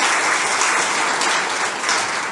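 Steady, dense applause from a crowd at a Brahma Kumaris Diwali celebration in Dayal Bagh, Ambala Cantt, honoring a performance by young girls; the clapping stays even and full throughout, with no talk over it.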